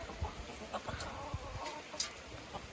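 Chickens cluck softly in a farmyard with scattered short calls and low grunts, faint and fairly distant, with no voices heard.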